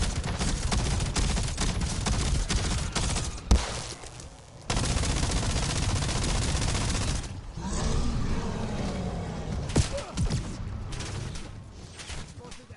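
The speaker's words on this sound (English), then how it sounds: "Man, but these guys shooting me." Enemy gunfire crackles in Call of Duty Black Ops 7 Zombies: loud, dense bursts with a sharp heavy hit near the middle, thinning into scattered shots and rumbling later on.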